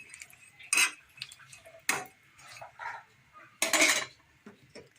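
A cooking pot being covered with its lid during home cooking, giving a few sharp metallic clanks and scrapes close by, with quieter clinks between them.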